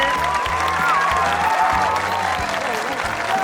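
An audience claps loudly and continuously for a team at a celebrity farming championship, a thick wash of hands with a faint cheer, backed by pulsing show music.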